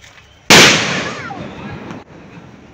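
A big 20 g kwitis firecracker with a double fuse bursts in one sudden, very loud blast that rings out and slowly decays over a couple of seconds, followed by low outdoor background noise.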